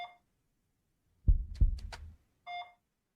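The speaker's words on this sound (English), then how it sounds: "It's beeping." Short electronic beeps in the video game Jimmy and the Pulsating Mass sound at the start and end, with two low thumping pulses and a few quick high blips between them.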